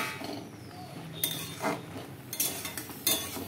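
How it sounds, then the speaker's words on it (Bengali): A metal lid comes off a pot of banana flower boiling on the stove, giving a few light clinks and clatters close by against a quiet background. "আমি ঢাকা খুলে দেখছি কতটা সিদ্ধ হয়েছে।"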